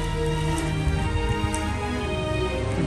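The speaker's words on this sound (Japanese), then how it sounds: "これスコールになるのかな。 雨がどっしゃーって降るやつ。" Steady tropical rain squall at a resort hotel on Koh Samui, Thailand, pouring down as a dense, continuous hiss with scattered drop impacts, moderately loud and unbroken throughout.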